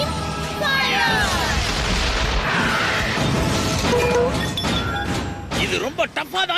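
A cartoon weapon fires and a loud explosion follows from the animated series Johnny Test, with a busy crash and boom in the middle and sharp thumps near the end, layered over music and effects.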